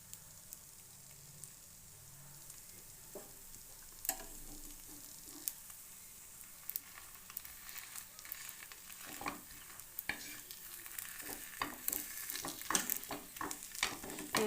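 Patishapta crepe with coconut filling cooking in a pan: a soft, steady frying sizzle with scattered light clicks and scrapes, growing busier and louder toward the end, no voices.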